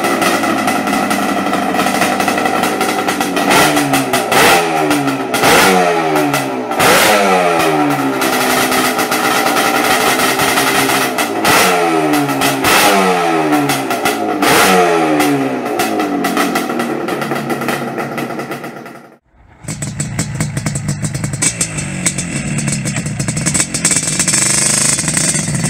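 A Yamaha RD 400 motorcycle engine revs repeatedly, rising and falling in quick sharp bursts, then drops out briefly before a steadier high-pitched whine takes over.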